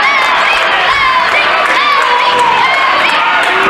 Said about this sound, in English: Crowd trying to get behind Lodi.